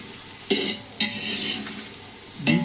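Golden-browning onions for a large batch of chicken biryani sizzle steadily in a pot, broken by three loud scraping stirs of a spoon against the metal, with no talking.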